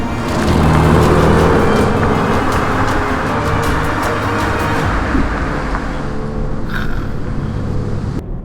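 A BMW M3 with the S58 engine driving, a loud continuous engine drone and road roar close by, holding steady throughout with no pauses.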